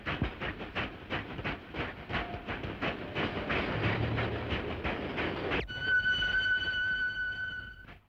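A train runs steadily by at close range, its wheels clicking in a rhythm over a hissing rail rumble, and a high sustained whine takes over near the end.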